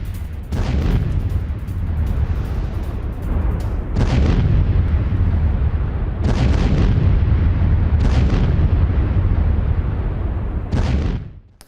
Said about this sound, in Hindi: अवदीवका में आर्टिलरी अटैक किया गया है, यूक्रेनी आर्म फोर्स को निशाना बनाया गया।